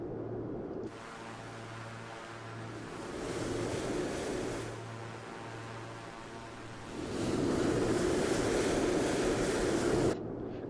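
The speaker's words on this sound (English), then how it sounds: "Can you guys hear that jet really loudly" A loud jet roars steadily in a flight simulator session over the Caribbean, a broad rushing drone near St. Lucia, Barbados and St. Vincent that swells louder toward the end, with no talking.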